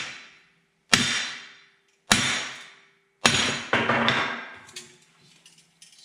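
A hammer striking the rear wheel hub of a 1966 Corvette C2 during disassembly, four loud ringing metallic whacks spaced about a second apart, each with a long decay, followed by faint clatter, close up with no talking.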